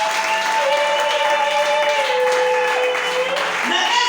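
A church congregation gives sustained applause to acclaim Jesus during a service. The steady, dense clapping runs the whole stretch at an even level, with a held tone sounding faintly beneath it.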